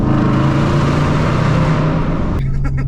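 A car engine drones loudly and steadily at close range, holding a sustained revving tone before it cuts off abruptly near the end.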